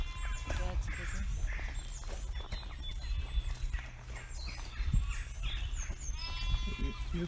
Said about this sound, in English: So the sheep and the lambs get turned out once they're old enough to look after themselves.